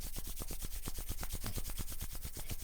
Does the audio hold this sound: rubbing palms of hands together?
yes